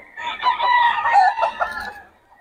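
A rooster crows loudly and close by among chickens at a fowl market where birds are for sale, one long sustained crow lasting about two seconds.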